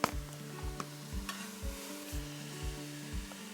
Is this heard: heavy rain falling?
no